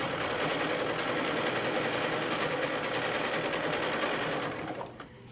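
A domestic sewing machine runs steadily while stitching a full circle in rulerwork quilting, a loud continuous whirring motor hum with rapid needle clatter that winds down near the end.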